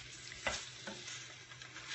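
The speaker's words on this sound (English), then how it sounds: "come in here and stir this around" Swiss chard gets stirred in a pan on the stovetop, a quiet sizzle with a few brief scraping strokes, close and low in level.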